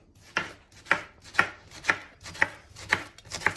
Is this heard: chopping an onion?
yes